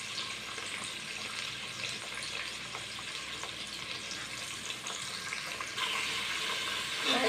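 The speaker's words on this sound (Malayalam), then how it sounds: "നല്ലപോലെ വഴറ്റണം." Kerala-style beef curry masala, sprinkled with salt, sautés in a pan with a steady, soft, close sizzle and frying hiss that runs unbroken throughout, with no talking.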